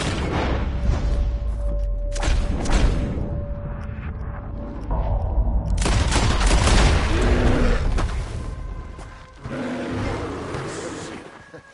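Gunfire and booming blasts in Red Dead Redemption 2, loud and dense over a rumbling game soundscape with animal roars and brief shouting voices.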